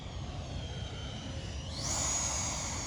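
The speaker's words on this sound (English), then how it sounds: "Oh, this is a good flying airplane, guys, as advertised." A Freewing 80mm F9F-8 Cougar RC jet flies overhead with a steady whining turbine roar that rises sharply in pitch and loudness partway through, sounding fairly close.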